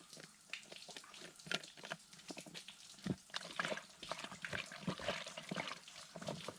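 Air let into a collapsed water bladder on a wild camping trip, making a rapid run of close, faint glugging and gurgling bursts as the water burps out.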